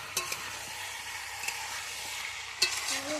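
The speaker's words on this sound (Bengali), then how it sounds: "ইঁচড়টা কষানো হচ্ছে এই যে" Young jackfruit is stirred and fried in a pan over an outdoor clay stove, giving a soft, steady sizzle broken by a few quick scraping clinks of the spoon. Fairly quiet and close.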